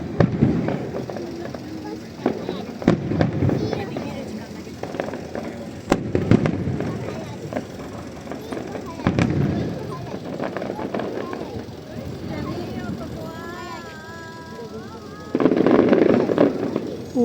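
Fireworks at the Adachi fireworks festival in Tokyo go off in repeated loud bursts and crackling volleys, several distinct booms spaced through the clip, with a crowd of people talking and cheering throughout.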